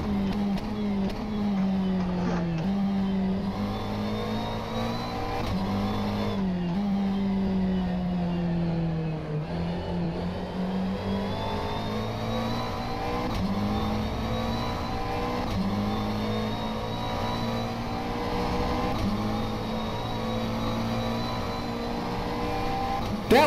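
McLaren race car in the rFactor 2 racing simulator, its engine droning steadily with rising and falling pitch through gear changes, loud and continuous for the whole stretch with no talking.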